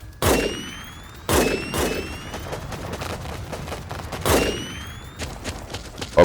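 Sniper fire in the video game WarPips: sharp, heavy reports crack out close and loud, three big shots spaced well apart with smaller pops and clatter between them.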